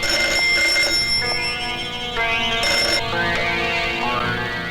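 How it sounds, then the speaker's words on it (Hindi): A telephone rings in a Bollywood action film scene. The ringing is a loud, continuous electronic tone that changes pitch partway through, with no talk. "शायद उसी का फोन हो।"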